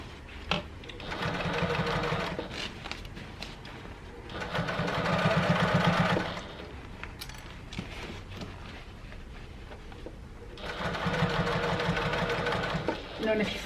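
A sewing machine runs in three long bursts of rapid stitching along thick tote bag seams near the handles, with quiet pauses between runs.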